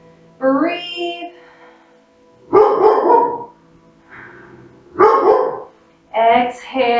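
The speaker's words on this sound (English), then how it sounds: "What are you guys barking at, huh?" Several dogs bark indoors in loud, separate bursts, about four or five over a few seconds with short quiet gaps between them, some sharp and some yelping.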